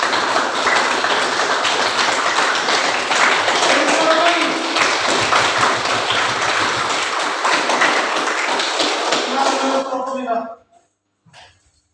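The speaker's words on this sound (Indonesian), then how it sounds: "kita beri dulu tepuk tangan untuk kelompok 5." Classmates applaud group 5 in a school classroom, a dense wash of clapping and tapping holding steady for about ten seconds before cutting off into quiet.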